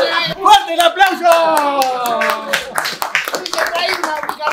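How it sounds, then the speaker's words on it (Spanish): A studio audience at an end-of-season celebration show claps and cheers for several seconds, with voices shouting and singing over the applause. "¡Fuerte el aplauso!"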